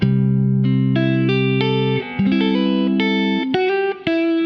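At a slow pace, a guitar works through a riff note by note, each chord tone plucked and held, with a brief break midway and near the end.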